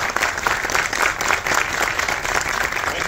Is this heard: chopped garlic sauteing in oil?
no